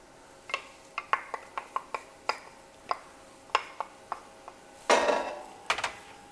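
Chopped onions tipped into a warm pan for risotto. A rapid string of light metallic clinks and taps is followed by one louder scrape and clatter, with no voices.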